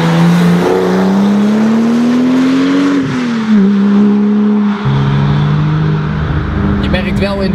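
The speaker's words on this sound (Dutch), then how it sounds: "En het geluid, het is een zescilinder, dus echt heel wild klinkt hij niet. Maar dat blazen van die turbo met die TechArt uitlaat." A Porsche 997 Turbo six-cylinder with a TechArt exhaust revs loudly and close, its pitch climbing through the gears, dipping on shifts and then building again.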